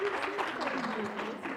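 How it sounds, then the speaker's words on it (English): Conference audience applause, a dense wash of clapping from many hands, heard briefly with a voice speaking over it. "A round of applause for everybody, for the audience, and for the speakers"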